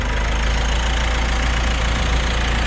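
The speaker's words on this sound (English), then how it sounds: "car is running and we didn't shut it off." A 2016 Mitsubishi Pajero Sport Exceed's 2.4 common-rail turbo diesel idles up close, with a loud, steady, slightly knocking rumble and no talking.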